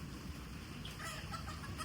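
Hens and a few roosters in a coop give faint, scattered clucks and murmurs over a low background hum, quiet and somewhat distant.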